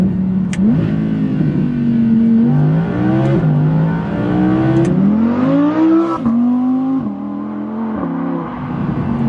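Audi R8 V10 Performance engine revving hard under acceleration, a loud close howl rising repeatedly in pitch through the gears with short breaks at each shift, no talking.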